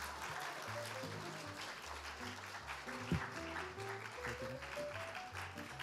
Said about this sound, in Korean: 우리 큰 박수로 좀 맞이해 주시면 감사하겠습니다.